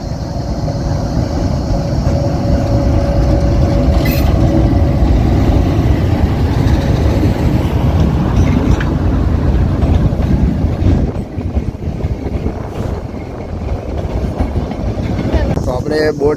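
Train arriving at Sasan Gir station, a loud continuous rumble and clatter of railcars recorded close, with wind buffeting and a brief higher screech near the end.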